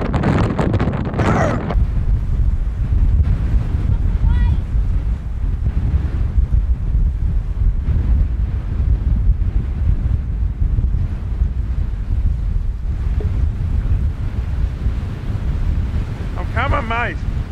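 Strong gusts of up to 40 knots buffet the microphone on an exposed shore during land-based fishing, with surf churning beneath a constant loud roar. Brief voices come through near the start and the end.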